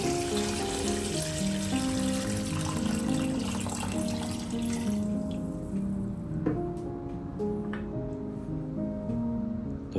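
Water runs steadily into a pressure cooker pot for a pork and goji berry soup, a continuous splashing pour that thins and quiets partway through, leaving lighter trickles and a few drips.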